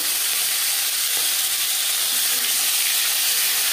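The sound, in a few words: fish frying in hot refined oil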